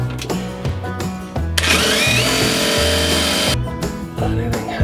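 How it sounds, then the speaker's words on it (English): A power drill pre-drills a screw hole through thick material from an awkward position, its motor whining steadily for about two seconds between shorter bursts and clunks, loud and close, with no talk. "We're gonna try to pre-drill."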